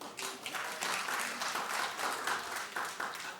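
Studio audience on a daytime talk show clapping steadily and fairly loudly throughout, a dense patter of many hands with no talking over it.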